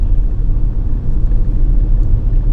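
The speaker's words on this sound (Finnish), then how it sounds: "uudet nastarenkaat ja nyt ne pääsi heti kunnon testiin, kun päästiin tänne lumiselle ja jäiselle tielle" A van rolling on new studded tires over an icy, snowy road makes a loud, steady low rumble of engine and road noise from inside the vehicle, continuous and without voices.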